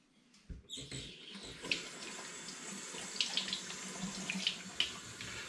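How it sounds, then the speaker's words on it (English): Glass bottles rinsed under a running kitchen tap during cider making, a steady close hiss of water with scattered sharp clinks and splashes as the bottles move under the stream. "I'm just going to rinse my bottles under the tap now to get any sticky residue off."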